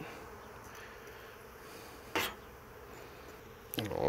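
Honeybees hum at an open hive full of brood and young bees, a soft continuous buzz that stays low and close, broken by two brief clattering knocks of hive equipment.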